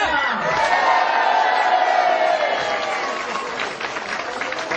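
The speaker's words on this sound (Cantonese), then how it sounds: "歡呼聲同埋掌聲啊！" A wedding crowd cheers and applauds loudly and steadily, a dense wash of clapping with shouts and whoops mixed in throughout.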